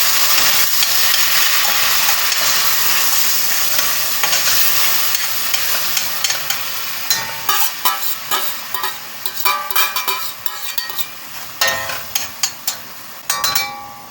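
Tomatoes hit hot oil in a pan and set off a loud, steady sizzle that thins out over time, broken near the end by repeated scraping and clinking stirring strokes.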